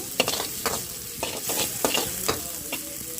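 Okra (ladyfingers) fries in a small amount of oil in a covered pan for masala curry, giving a soft continuous sizzle broken by several sharp stirring scrapes, fairly quiet and close.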